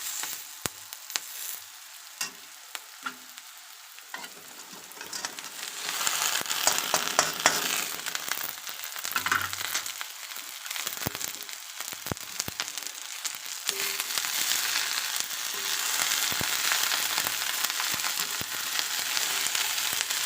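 Okra frying and being stirred in a pan for a Punjabi bhindi sabzi, a steady sizzle that swells louder after the first few seconds, broken by occasional scraping clinks of the spoon, with no voices.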